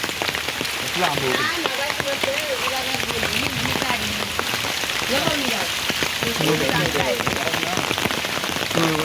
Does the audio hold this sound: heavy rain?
yes